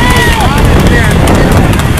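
Rapid hoofbeats of horses galloping close by in a horse race, a loud rolling clatter mixed with wind noise and excited talking over it.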